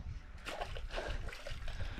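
A small sooty grunter thrashing in the water on a fishing line in the Australian outback, a few close wet splashes and sloshes, fairly quiet, with no clear voices over them.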